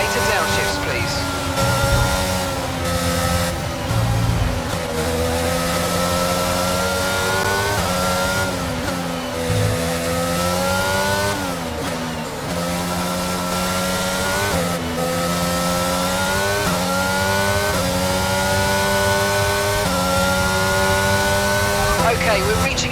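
An F1 race car engine from the F1 22 racing game wails continuously and loudly, its high-pitched note climbing and dropping through repeated upshifts and downshifts, with occasional brief dips as the car lifts off the throttle.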